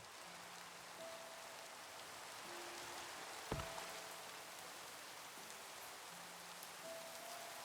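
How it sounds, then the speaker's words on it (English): Steady rain falling in the video game Minecraft, a continuous hiss of drops on surfaces with faint in-game tones and one brief low thump, no voices. "Oh, it's raining."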